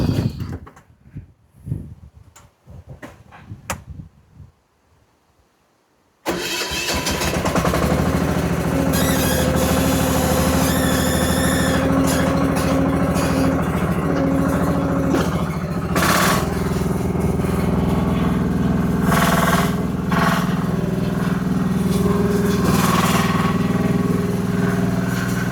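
After a few quiet clicks, a digger's heavy diesel engine roars to life and keeps running loudly and roughly, with clanks and squeals over the rumble.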